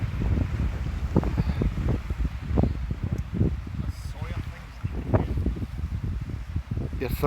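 Wind gusts around two tents at a wild camp on Arran, buffeting the microphone in low, uneven rumbling bursts with rustling fabric, close and fairly loud, while a person talks throughout.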